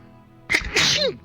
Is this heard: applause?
no